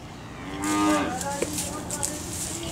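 A sheep on a farm gives one close, drawn-out bleat. Quieter rustling and small knocks follow, with no talking.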